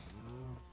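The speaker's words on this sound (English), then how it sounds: "cows are quite noisy and doing my head in" A single short cow moo from Minecraft, a low tonal lowing call lasting under a second, quiet and alone.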